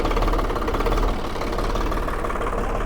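A heavy 50-horsepower farm tractor engine idles close by, a steady, rapid diesel knock with a continuous low throb and vibration and no break across the stretch.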